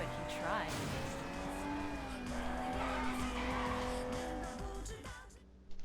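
Cars race in the open-world game Sleeping Dogs, with engines roaring steadily and tires skidding and squealing through a drawn-out slide, while someone talks over the action.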